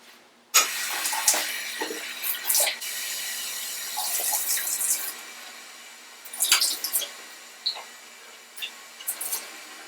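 A paintbrush rinsed with soap under running water from a tap, a steady rushing stream with irregular splashes and bursts as the brush moves through the flow, fairly close and loud.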